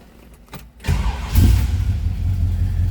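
A 1963 Chevrolet Nova SS two-door hardtop starts up close by: a few quick cranking clicks, then the engine catches with a burst and settles into a loud, steady idle.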